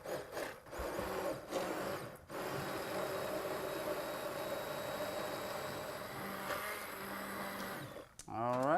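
A blender pulses broccoli soup thickened with milk and melting cheese, a steady loud whirring drone running for most of the stretch, with a short break near the start and a voice briefly at the end.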